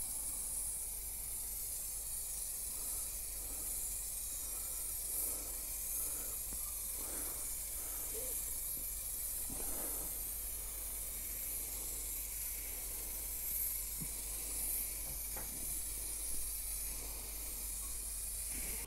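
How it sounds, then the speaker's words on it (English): Rustoleum frosted glass spray paint hisses steadily from an aerosol can as a second coat goes on, a continuous close hiss with small shifts in intensity and no talking. "So I'm going to apply a second coat and hopefully it blends in and it disappears."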